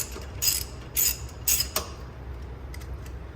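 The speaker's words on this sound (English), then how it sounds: "then you get your lug nut wrench and you loosen the bolts" Lug nut wrench loosening car wheel bolts, a series of short metallic ratcheting clicks in three or four quick bursts followed by quieter clinks, close up.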